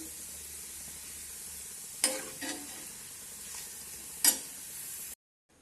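Ginger being stirred and roasted in a pan over a low flame: a soft, faint background hiss broken by two sharp spatula scrapes, then sudden silence at the end.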